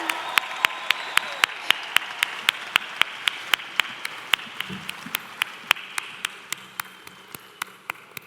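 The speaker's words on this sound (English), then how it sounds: "Can we give them one more round of applause," Sharp, evenly spaced claps ring out over a low, steady crowd murmur at a virtual graduation ceremony, the crisp hits repeating rhythmically for several seconds, moderately loud.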